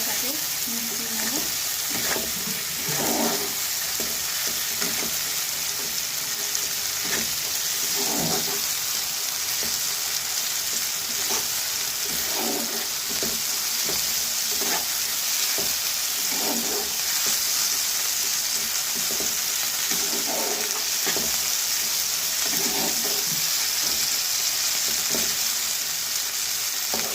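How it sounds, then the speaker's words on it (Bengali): Masala with ginger-garlic paste fries in a pan for a fish-egg, pointed gourd and potato curry, a constant sizzle broken by repeated scraping stirs of a spoon. "এবার দিয়ে দিচ্ছি আদা রসুনের পেস্টটা, ভালো করে মশলাটাকে মিশিয়ে নেব।"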